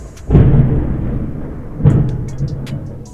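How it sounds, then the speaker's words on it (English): Thunder from an approaching storm: a deep, loud rumble that swells up suddenly and rolls on, followed by a second swelling rumble, heard alone with no talking. "sounds like a big storm coming"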